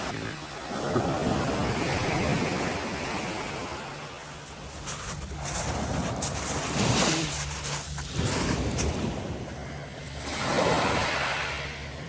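Sea waves wash onto a beach on the Trabocchi coast of Italy on a calm, sunny morning, with a steady broadband surf hiss that swells and ebbs in several slow surges, and some wind noise, with no voices.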